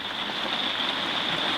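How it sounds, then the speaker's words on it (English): Rain patters steadily on a caravan, a dense, even hiss that stays constant throughout with no other sounds over it. "Excuse the rain if you can hear that."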